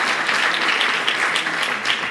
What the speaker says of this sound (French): je vais vous proposer de les applaudir